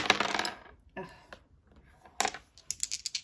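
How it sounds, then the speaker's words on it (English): Dice clatter and roll across a tabletop in two quick bursts of rattling clicks, then a few sharper taps as they settle, close and fairly quiet with no talking. "I love rolling my dice."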